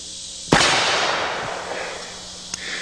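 A single loud, sharp gunshot from a handgun without a muzzle brake, fired outdoors at a target, with a long echoing decay and a faint distant knock afterward.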